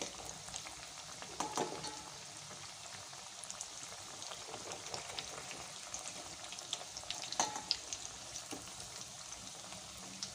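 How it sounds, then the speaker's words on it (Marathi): Cutlets frying in a pan after being flipped, making a soft, even, crackling sizzle with an occasional faint clink, quiet and without voices. "हे बघा दुसऱ्या साईडनी सुद्धा छान तळून घ्यायचे आहेत अशा प्रकारे"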